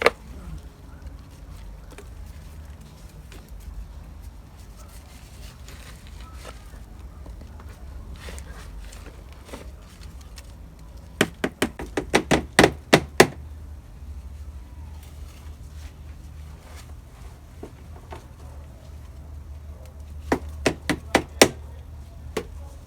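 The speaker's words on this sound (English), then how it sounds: "so now to make the hole for the thyme" Digging a planting hole for thyme in garden soil, a quiet scuffing background broken by clusters of sharp knocks and thuds, close by, with a second short burst near the end and no speech.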